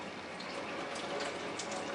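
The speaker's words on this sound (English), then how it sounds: "Okay, so I've got it dripping into the jar," Water from a Sawyer SP191 bucket adaptor filter runs into a jar, a quiet, steady, even trickle and hiss that holds for the whole stretch.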